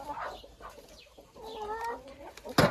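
A few chickens cluck nearby in short, scattered calls, ending with a sharper squawk; no voices.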